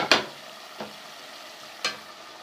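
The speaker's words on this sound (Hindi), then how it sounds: "थोड़ा सा भून लेती हूँ उसको, थोड़ा सा चम्मच चलाती हूँ।" Fish heads fry in a pan with onions while a spoon stirs them: a faint, steady sizzle punctuated by three distinct scraping clacks of the spoon against the pan.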